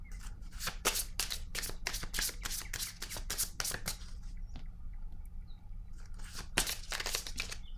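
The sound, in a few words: shuffling and drawing tarot cards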